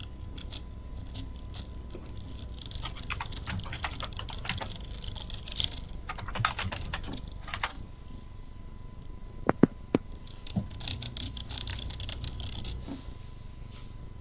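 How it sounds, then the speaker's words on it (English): Fast, irregular clicking of computer keyboard keys while typing a name, close and fairly quiet, with a steady low hum underneath and a few sharper key strikes near the end. "Oh, I'm typing the NPC that Val made."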